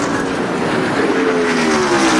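NASCAR stock car engine at full throttle in the 2002 MBNA American 500, a loud sustained roar with a steady rising tone, close and continuous, no talking.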